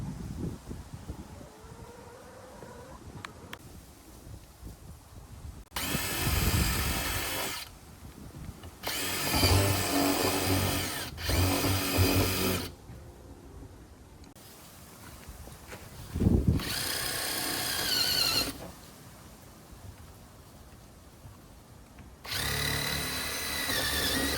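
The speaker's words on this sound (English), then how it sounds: "this is the drill that I'm going to use with the 1/2 bit" A power drill fitted with a 1/2 inch bit bores holes into a plastic compost bin, running in several loud whirring bursts of a few seconds each, separated by quieter pauses.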